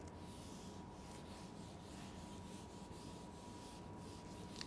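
Writing being rubbed off a board during an electromagnetics lecture, a steady run of soft, faint rubbing strokes with no talk over it.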